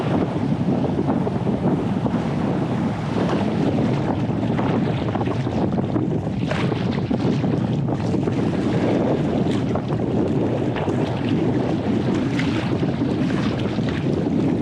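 A strong headwind buffets the microphone on an Arctic coast while paddling a boat, a loud, steady roar of wind and water lasting the whole stretch with no voices.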